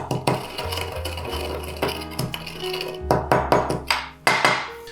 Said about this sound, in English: you want to mash the bitters and the sugar together in the bottom of the glass